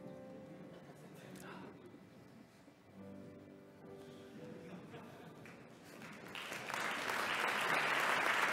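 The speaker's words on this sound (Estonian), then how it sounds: "Tunnustame suure aplausiga ka loodusteaduskonna doktoriõppe lõpetajaid" Audience applause at a Tallinn University of Technology anniversary academic ceremony, clapping building from a scattered patter under a spoken announcement into a loud, sustained ovation.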